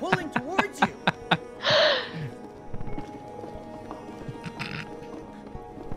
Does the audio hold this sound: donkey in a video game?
yes